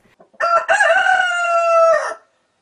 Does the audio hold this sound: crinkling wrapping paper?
no